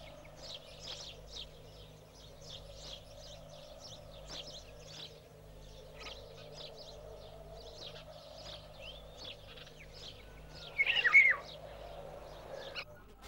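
Small birds twitter with scattered high chirps across a rooftop, steady and moderately close, with one louder burst of calls near the end over a low background hum. The chirping is taken to be sparrows busy with courtship and new nests beside storks.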